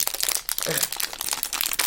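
Cellophane packaging crinkles and crackles as a small toy figure is unwrapped, with close, irregular rustling bursts through the whole moment.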